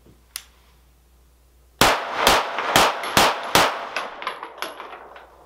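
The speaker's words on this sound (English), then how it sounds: "let's do 5 rapid fire headshots on the 7-yard target" A Springfield 9mm Ronin 1911 pistol fires five rapid shots at a 7-yard target, loud sharp cracks in quick succession after a lone click, leaving metallic pings and ringing as they fade.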